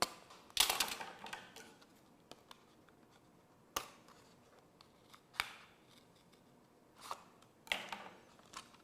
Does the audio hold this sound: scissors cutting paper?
yes